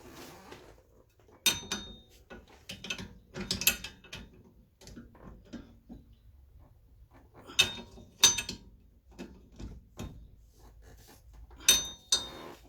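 Wheel nuts on a Ford Mondeo Mk3 being nipped up one after another, giving sharp metallic ratchet clicks and clanks in separated bursts with quieter handling noise between, close by and without talk.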